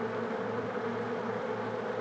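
Bees buzzing around a honeycomb, a dense, steady droning hum with no break, close and fairly loud, and no voices over it.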